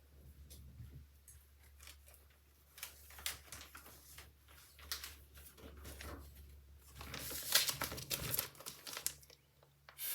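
Light, airy craft paper being handled and crinkled: scattered soft rustles and crisp crackles come in irregular bursts, quiet and close, with a louder flurry near the end.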